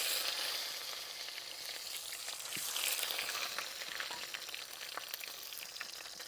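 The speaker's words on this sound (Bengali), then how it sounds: "এবার আমি কাতলা মাছের মাথাটা ভেজে নেব" Catla fish head frying in hot oil, a steady loud sizzle with crackling spits running continuously throughout, no voices.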